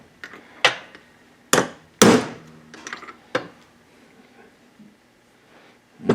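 A metal hammer taps a link pin into the front beam of a VW Buggy during a front-end rebuild: a handful of sharp, close strikes spaced irregularly, some louder than others, with quiet gaps between them.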